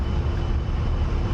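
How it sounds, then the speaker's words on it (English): An A-10A jet in the DCS flight simulator game drones as a steady, loud, continuous engine roar with no talk over it. "We're flying the A-10, guys."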